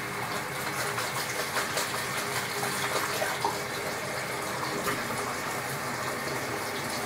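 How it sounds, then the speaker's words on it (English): A steady stream of warm water runs into a bowl, producing constant close splashing and gurgling with small surges, alone and without any voices. "Bit of warm water in."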